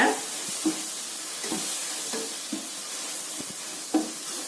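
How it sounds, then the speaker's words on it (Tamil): Ginger garlic paste is stirred and sautéed in a hot pan for wheat flour noodles, giving a continuous sizzle broken by regular scraping strokes of a spoon, close and fairly loud. "இஞ்சி பூண்டு பேஸ்ட் அந்த பச்சை வாடை போகிற வரைக்கும் நல்லா கலந்துக்கலாம்"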